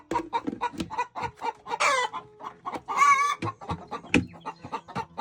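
Several chickens clucking and squawking close by in bursts, with a rooster-like call rising above the flock.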